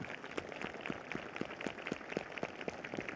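A congregation at a Sunday evening church meeting claps together in a steady, rapid rhythm, the sharp claps evenly spaced and somewhat distant, with no voices over them.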